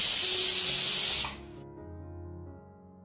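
A pressure cooker whistle vents steam in a loud, close hiss that cuts off after about a second, leaving a low, fading hum in a home kitchen while bagara rice cooks.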